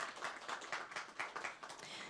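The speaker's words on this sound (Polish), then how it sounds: "Artur Beck, wielkie brawa," Faint audience applause at the opening of the Future Cooperation stage at the TOGETAIR 2025 conference, a steady patter of distant clapping with no voices.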